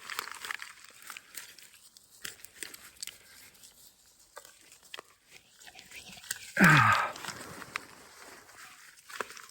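Runner roots of a wild-collected yamadori tree tearing and breaking off while it is dug from a shale pit: soft scraping and rustling, then one loud, brief ripping snap close by.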